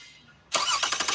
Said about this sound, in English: we want to start the vehicle and listen to the battery crank.